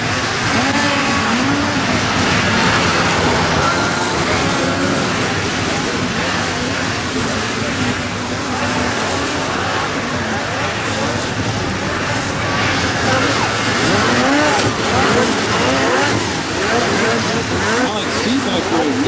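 600-class snowmobiles race at a grassroots snocross event at ERX Motor Park, their engines roaring loudly and continuously as multiple machines pass close by, with a commentator talking over the noise.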